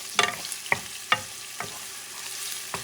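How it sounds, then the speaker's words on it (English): Onion sautés in a pan over medium heat: a soft continuous sizzle broken by about five sharp scraping strokes of stirring, close and fairly quiet with no talk. "all I'm doing is sauteing this onion. Have a medium heat"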